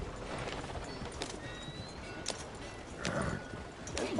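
A horse's hooves clip-clop in a quick running rhythm in Red Dead Redemption 2, with a brief whinny and light tack jingles over game ambience.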